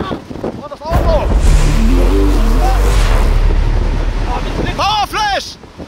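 Strong wind from a large tornado in Texas roars and buffets the microphone in a heavy, continuous rumble, with excited voices shouting before and after the gust.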